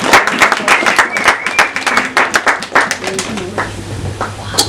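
A church congregation at a Sunday service claps, a loud dense round of rhythmic clapping that thins toward the end, with a few voices over it.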